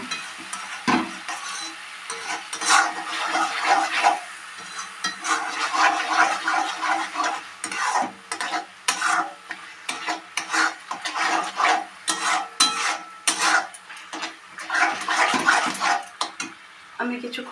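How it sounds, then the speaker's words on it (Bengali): Spice paste with salt and turmeric being sautéed for a fish curry, sputtering frying mixed with repeated scraping and stirring strokes against the pan, close and fairly loud, in irregular bursts. "আমি কিছুক্ষণ এইভাবে কষাতে থাকবো"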